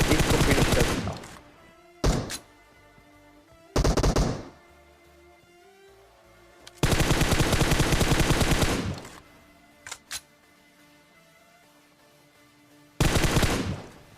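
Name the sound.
gunfire spray in a video game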